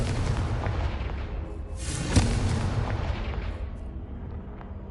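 A Confringo spell explosion in the Hogwarts Legacy video game: a sharp, loud burst about midway through, set against a dense, continuous game soundscape that rumbles before and after.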